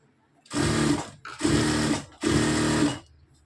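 A sewing machine runs in three bursts of about a second each while stitching along the edge of a garment neckline, loud and close with short pauses between runs.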